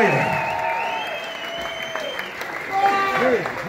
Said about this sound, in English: Let's give him a round of applause for playing an amazing set tonight.